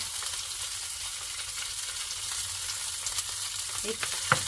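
Cooked rice fries in rendered duck fat, a steady close sizzle running throughout with a couple of brief scraping stirs near the end and no talk.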